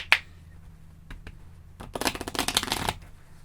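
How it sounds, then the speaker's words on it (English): A deck of playing cards is shuffled by hand, a few light taps followed by a quick riffling flutter of cards lasting about a second, close and clear. "Shuffle the cards."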